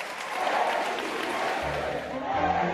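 Supporters at a political gathering applaud, a dense wash of clapping with crowd noise, loud and continuous, while a voice speaks over it.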